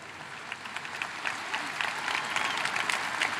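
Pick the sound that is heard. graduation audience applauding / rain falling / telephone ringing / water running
graduation audience applauding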